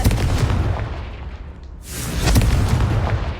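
Confringo explosion spell in Hogwarts Legacy, a loud rumbling blast with deep booming energy, a brief lull, then a second rolling burst of impact.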